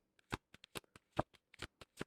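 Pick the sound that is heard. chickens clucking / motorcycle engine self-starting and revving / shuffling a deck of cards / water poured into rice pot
shuffling a deck of cards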